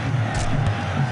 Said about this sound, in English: the crowd making their feelings heard here